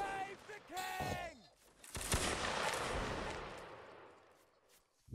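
Musket gunfire rings out in the Napoleonic-era battle game Mount and Blade: Napoleonic Wars, a sharp crack followed by a long rolling wash of distant volley fire, after a brief burst of voice at the start.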